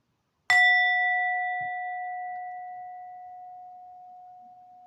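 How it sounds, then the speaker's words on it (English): A single clear bell strike rings out and sustains, its pure tone slowly fading over several seconds in a quiet room. "I'll go ahead and ring the bell."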